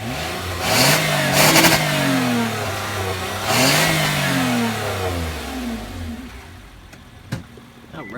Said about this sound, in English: Let's grab some exhaust.